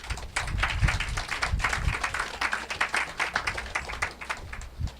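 A crowd at a police-vehicle handover ceremony for the Whitegate Development in St. Kitts and Nevis breaks into applause. Many hands clap loudly and densely, then the clapping thins into more separate claps toward the end.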